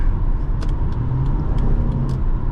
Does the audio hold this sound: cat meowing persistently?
no